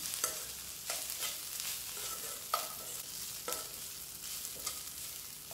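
Food sizzles and crackles steadily in a hot pan, with regular scraping stirs every second or so, close up and with no talking.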